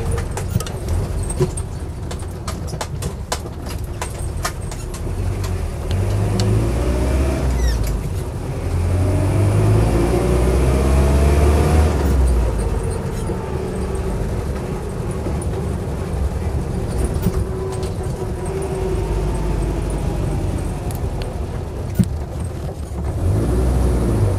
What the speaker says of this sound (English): It just drives exactly as it would have done when it left the factory, I think.